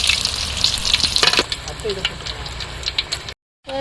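Fish fingers frying in hot oil in an outdoor village kitchen, a loud crackling sizzle that soon settles into a softer bubbling, with a person talking over it and a brief dropout near the end.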